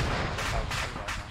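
Three quick bursts of gunfire in a row in the video game Arma 3, sharp and loud, evenly spaced over a dull background rumble.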